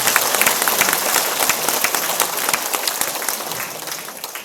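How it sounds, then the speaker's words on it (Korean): Steady applause from a seated audience at a school book-publication ceremony marking a girls' middle and high school's 70th anniversary, dense and even throughout, fading slightly toward the end with no voices over it. "좋은 말씀 해주신 우리 교장 선생님께 감사의 박수 부탁드립니다."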